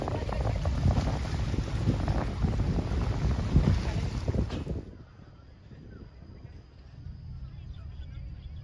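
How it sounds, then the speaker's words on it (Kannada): A sea breeze blows across the man-made Siloso beach on Sentosa island, Singapore. Strong wind buffets the microphone for about five seconds, then drops to a soft, calm outdoor ambience. "ತುಂಬ ಚೆನ್ನಾಗಿ ಗಾಳಿ ಬರ್ತಾ ಇರುತ್ತೆ."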